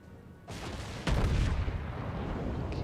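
The main guns of the battleship North Carolina fire in a naval combat game: a heavy booming salvo thunders close and loud, followed by a second sharper blast and a rumbling tail.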